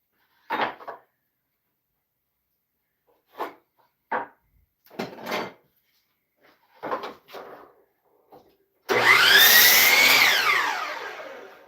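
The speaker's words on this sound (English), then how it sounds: "Running it through the old bandsaw real quick" An old bandsaw cutting wood in a workshop makes a loud, steady whining rip near the end, after several scattered knocks and short handling noises separated by quiet gaps.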